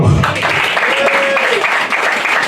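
Audience applauding at a Miss and Mister beauty pageant election, a steady dense wash of clapping that fills the whole moment, loud and close, with a voice faintly mixed in.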